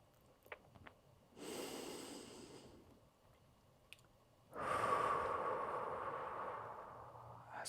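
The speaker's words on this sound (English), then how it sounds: "Breathing in through the nose," Slow, deliberate breaths during a stretching workout, a long inhale through the nose followed by a fuller, louder exhale through the mouth, heard close and alone in a quiet room.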